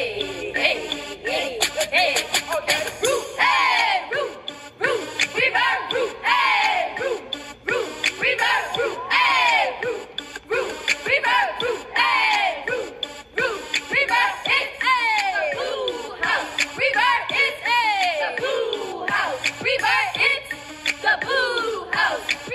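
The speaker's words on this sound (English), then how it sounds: "Every house has their own traditional cheer" Students of school house Rover chant their traditional house cheer, a loud crowd of many voices shouting together in rhythmic call-and-response bursts that continue without pause throughout.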